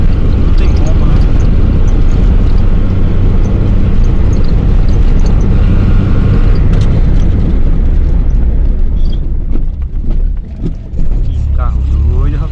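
A boxy Gol with a CHT 1.6 engine pulls hard on gasoline, a loud, close, roaring engine and wind rush that holds steady and then eases near the end, with voices partly heard.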